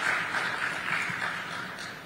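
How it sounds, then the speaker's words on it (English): Audience applause at a Forbes India Leadership Awards conversation with a filmmaker, a soft, even patter of clapping from a hall, fairly distant and fading slightly toward the end. "I think this deserves a round of applause."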